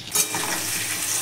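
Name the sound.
potatoes frying in a pan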